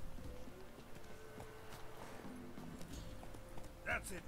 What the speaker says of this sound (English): That's it, Roach. Goddamn ghost horse.